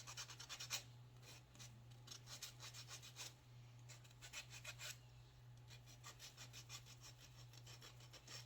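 Steady scraping and rasping of a sanding block and sandpaper on painted wooden edges, in short repeated strokes, close by, over a constant low electrical hum.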